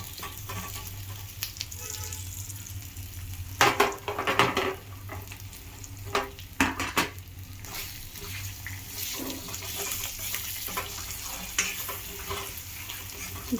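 Taro root pieces fry in hot oil with curry leaves and turmeric, a continuous sizzle with scattered stirring clatters and scraping, a few louder bursts near the middle, close and steady with no talking.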